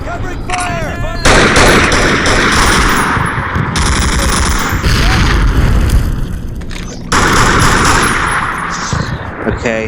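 Gunfire in Call of Duty during a house-to-house World War II battle: continuous loud machine-gun fire and heavy booms filling the whole stretch, with shouting voices mixed into the din.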